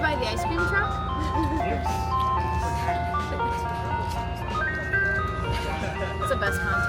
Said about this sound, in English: Saved by the ice cream truck?